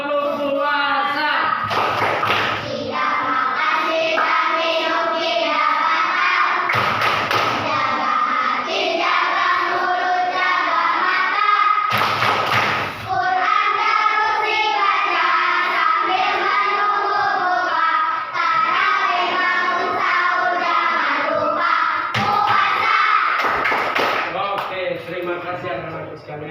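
Classroom of children performing the 'tepuk puasa' chant, a Ramadan-themed clapping song, with loud group singing and rhythmic hand claps that run steadily for the full stretch, punctuated by several sharper bursts of claps.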